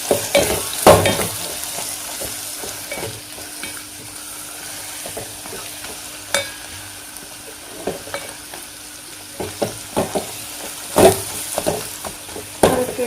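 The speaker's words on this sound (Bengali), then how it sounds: "এটা মশলা শুদ্ধ ভাজা হোক" Spices including Kashmiri chili powder frying in oil in a pan, a close, steady sizzle punctuated by repeated sharp scrapes and clinks of a spoon stirring against the metal.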